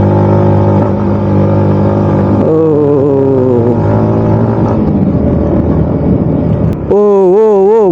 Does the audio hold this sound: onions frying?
no